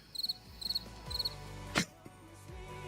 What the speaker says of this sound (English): It's a long ass cricket.